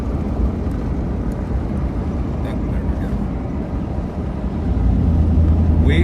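A car drives through Ravenswood, West Virginia, with a steady, loud rumble of road and engine noise from inside the cabin that stays constant throughout and swells slightly toward the end.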